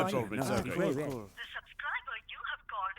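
A phone call is dialled and then cut off: loud speech fills the first half, followed by a run of short, clipped electronic beeps and tones from a handset with no voices.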